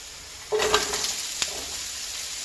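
Carrots hit hot oil in a pan with a sudden sizzle that settles into a soft, steady crackle, close and quiet with no talking.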